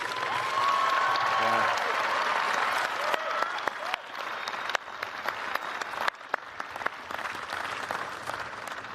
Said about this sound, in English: please join me in a round of applause for our amazing graduates